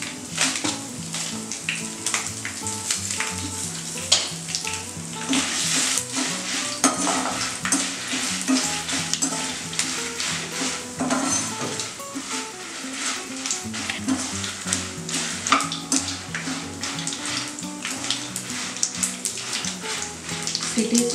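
Dried red chillies fry in a pan for village-style gongura pachadi, a continuous crackling sizzle with frequent stirring and scraping that stays close and fairly loud throughout.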